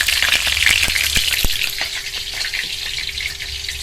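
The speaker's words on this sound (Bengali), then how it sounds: "পেঁয়াজগুলো বেশ এরকম লাল করে ভেজে নিয়ে তুলে নেব" Onions fry in hot oil until reddish brown, a loud, close, continuous sizzle with sharp crackling pops and a few stirring scrapes, and no voices over it.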